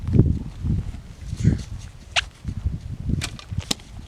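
A homemade wooden bow made from a $20 Home Depot board fires arrows at a water bottle, giving several sharp whip-like snaps and thwacks close by, with faint talking in between.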